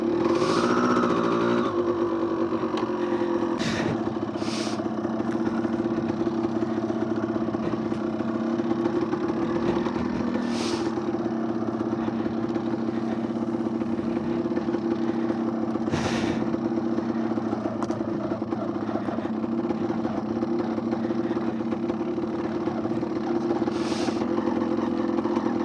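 A 1993 Yamaha DT175 two-stroke motorcycle idles while bogged in the Australian bush, a steady close putter with a brief rev at the start and occasional sharp clicks and knocks over the unbroken engine note, no talk.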